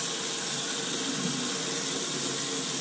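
Water steadily running and filling a clogged bathroom sink, a loud continuous splashing rush that holds unchanged throughout with no voices.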